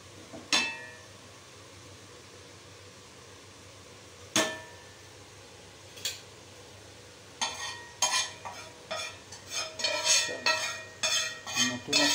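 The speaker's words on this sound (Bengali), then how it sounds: "ডিমের অমলেট গরম হচ্ছে," An egg omelette in mustard oil cooks in a home kitchen, a low sizzle behind sharp metal clinks and scraping, sparse at first and then a rapid cluster of utensil taps near the end.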